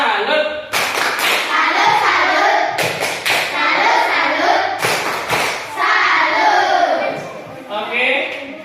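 Schoolchildren in a classroom clap and chant a group cheer to salute a classmates' team, with loud rhythmic clap bursts and thuds between voices shouting in unison.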